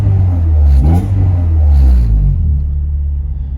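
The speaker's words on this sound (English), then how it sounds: "I figured I'd give it a little rev for you for the end of the video" A turbocharged K24 engine in an EM2 Honda Civic revs twice close by, each rise a deep, loud rumbling swell, then it settles back to a steady idle.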